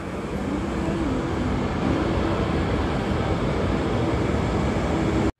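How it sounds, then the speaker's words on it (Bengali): A train rumbles at a station in Rome, a steady heavy drone of wheels and engine with faint tonal hums, loud and continuous until an abrupt stop. "আর এইদিকে ট্রেনও চলে এসেছে।"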